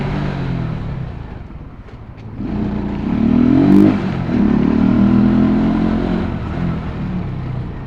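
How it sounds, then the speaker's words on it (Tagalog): A Marvel 125 motorcycle with a replaced primary clutch idles roughly, then revs up with a throaty rising engine note and clattery mechanical noise, close to the listener, with no speech. "So ang gamit ko nga palang motor ngayon is Marvel 125."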